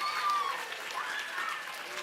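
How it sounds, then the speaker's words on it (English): A crowd at an inauguration ceremony applauds a young person completing a term, a steady wash of clapping with murmured voices mixed in. "We will clap for you as you round out your term."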